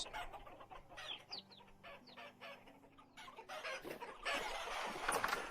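Chickens cluck and squawk in the game Vintage Story, with several short fowl calls and a crow-like cry rising over soft ambient hum, getting busier and louder near the end.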